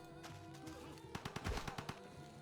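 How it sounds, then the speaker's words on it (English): A Gatling gun in a video game fires a quick burst of rapid rattling shots after a quieter start, the rounds clustered closely in the middle, fairly faint in the mix with game background sound. "we'll shoot this guy with the Gatling gun"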